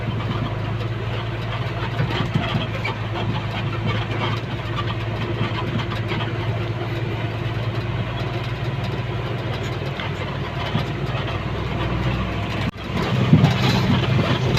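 Steady low idle of a boat engine in a Thai village waterway, running evenly at close range with a knocking, throbbing undertone and a brief dip and bump near the end, no speech.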